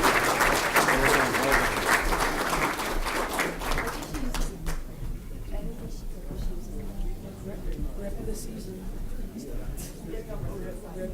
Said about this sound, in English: Maybe a final round of applause,